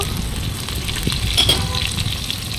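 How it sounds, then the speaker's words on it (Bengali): Pointed gourd pieces frying with turmeric and salt in hot oil give off a steady, close sizzle with light bubbling crackle throughout, and no voices. "পটলগুলোকে হলুদ আর লবণ দিয়ে ভেজে নেব"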